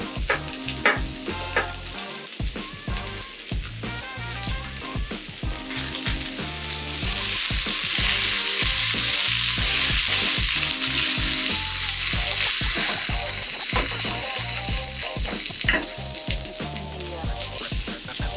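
Shredded beef frying with onions in a pan, a loud close sizzle that builds and holds, punctuated by frequent stirring clatter and scraping.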